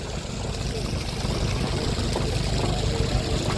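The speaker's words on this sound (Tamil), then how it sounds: "தண்ணி நல்ல ப்ரெஷர் வந்துட்டுருக்கு" A 3000W BLDC motor borewell pump pushes water out of a 40mm pipe under strong pressure, making a loud, continuous gushing roar. A voice speaks over it.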